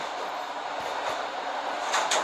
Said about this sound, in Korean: 건너편에 기차가 지나갔습니다